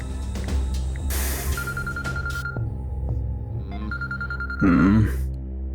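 A phone rings in a tense action scene with repeated electronic tones, set among dramatic background sounds and a brief vocal groan near the end.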